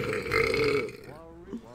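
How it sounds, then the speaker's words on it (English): A loud, close burp lasts under a second, followed by someone speaking briefly. "That burp, oh my gosh, that like came out of."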